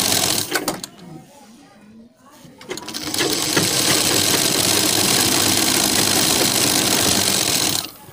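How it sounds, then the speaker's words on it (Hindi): An electric sewing machine stitches along the edge of a fabric slip, starting after brief stops and running loud and steady for about five seconds, with a voice talking near the start. "लब की लब किनार पे सिलाई लगानी है इस तरह"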